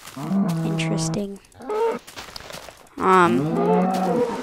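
Blocky Minecraft cows moo twice, each a long, loud, nasal low call, with a short gap of quieter game sound between them.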